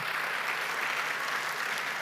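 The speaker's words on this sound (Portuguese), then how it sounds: "Salva de palmas para todos vocês" Steady applause from a crowd, an even wash of clapping at moderate volume throughout.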